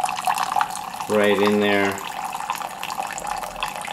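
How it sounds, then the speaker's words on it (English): Hot water streams steadily from a single-serve Keurig coffee maker into a cup, a continuous close pouring hiss while a person speaks briefly over it. "normally this would be coffee coming out, but I'm just doing hot water"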